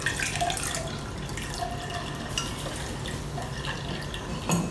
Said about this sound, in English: So I'm going to add in another 300 ml of water to it